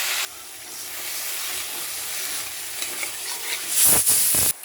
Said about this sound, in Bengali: এবার জল দিয়ে দেবো, কষা হয়ে গেছে